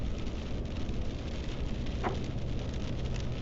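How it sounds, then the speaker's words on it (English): Steady rain drums on a car roof and windshield while driving on a repaved stretch of Interstate 11 near Kingman, Arizona, a continuous broadband hiss with road rumble beneath and no talk. "Sure didn't beat the rain here."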